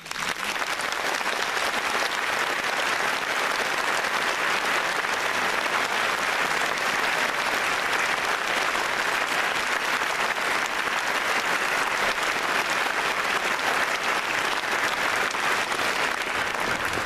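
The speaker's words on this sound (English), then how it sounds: "I would ask you to join me and the platform party in thanking them with a vigorous round of applause" A large audience at a university graduation ceremony applauding vigorously, a dense, loud and unbroken wash of clapping that holds steady for the whole stretch.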